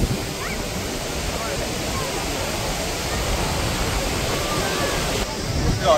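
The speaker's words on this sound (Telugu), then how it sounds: "ఇవి నయాగ్రా ఫాల్స్, యుఎస్లో ఉన్నవి." Niagara Falls waterfall on the US side, a steady, loud roar of broadband rushing water close by, continuous throughout with little variation and a slight swell near the end.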